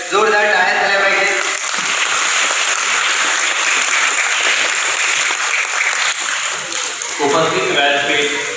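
Loud, sustained applause from an audience at a function held at an ashram, a dense wash of clapping lasting several seconds, with speech audible before and after it.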